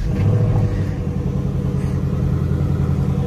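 A 2024 Ford Mustang GT engine running, heard from inside the cabin as a deep, steady, loud rumble with a faint swell at the start, continuous throughout with no talk.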